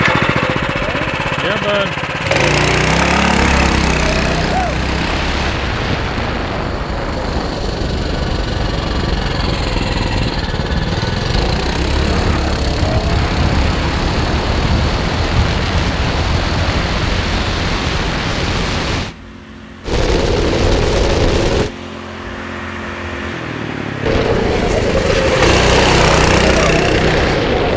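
A 10 horsepower Honda clone small engine roars loudly and steadily up close, with a brief drop near the end before it picks up again. A voice speaks briefly over it.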